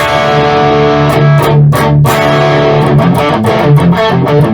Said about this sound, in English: let's listen to the overdriven tones.